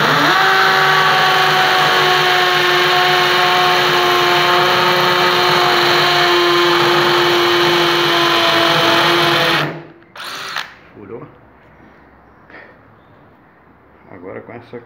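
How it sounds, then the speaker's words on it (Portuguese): A 12-volt impact drill in hammer mode with a 6 mm bit bores into a concrete column, giving a loud, steady whining grind for about ten seconds before it stops, followed by quieter handling noises and faint talk. "Fazer um teste aqui, furar o concreto, a broca 6."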